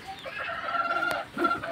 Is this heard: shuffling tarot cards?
no